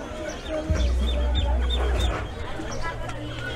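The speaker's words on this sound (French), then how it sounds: "Ils sont beaux les coqs." Roosters crow and cluck at a busy poultry market in Chiapas, Mexico, their calls rising over a dense crowd murmur and a low engine rumble.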